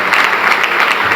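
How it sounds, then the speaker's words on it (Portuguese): Congregation applause at a church congress in Paraná, a dense, steady clapping that fills the whole moment at close range, with no voices standing out. "Dá um forte aplauso a Jesus"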